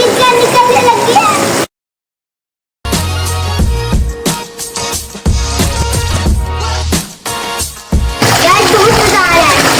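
Water splashing and rushing into an inflatable swimming pool, loud and close, broken by a short silent gap, with voices and tonal sounds mixed over the middle stretch.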